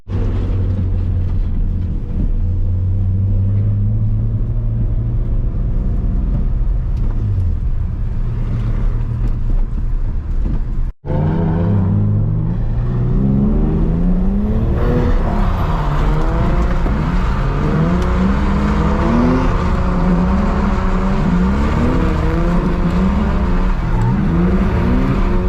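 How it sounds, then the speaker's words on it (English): A drift car engine roars and revs continuously, its note rising and falling with a rough, uneven misfire, loud and close, with a brief cut partway before harder revving resumes. "The misfire is horrible."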